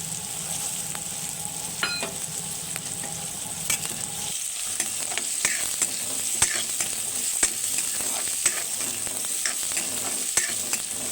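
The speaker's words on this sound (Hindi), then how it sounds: "मटर ला भी अच्छे से भून लेथन प्याज मन के साथ" Green peas fry with onions in a pan on medium heat, a steady close sizzle broken by frequent scraping and stirring clicks of a spoon.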